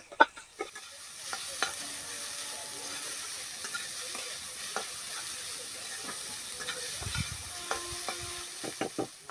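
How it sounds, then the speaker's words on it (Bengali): A small amount of carrot sizzles in a frying pan while being stirred for carrot dudh puli, with a soft steady crackle broken by scraping stirs and light clinks. "একদম সামান্য পরিমাণে গাজরটাকে আমি একটু ভালো করে ভেজে নেব"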